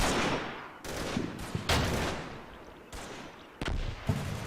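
81mm mortar rounds slam into a church in the Combat Mission: Battle for Normandy war game, a string of heavy, booming blasts and crackling gunfire-like impacts arriving in uneven bursts over continuous battle noise.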